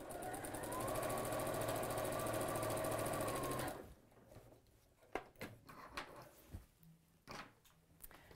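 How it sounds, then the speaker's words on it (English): A sewing machine stitches a cat or dog tote bag, running loud and close in a steady, rapid rhythm for nearly four seconds before stopping, followed by soft handling clicks and thumps. "We're going to sew this up anyway, so it doesn't matter that you're leaving a big piece."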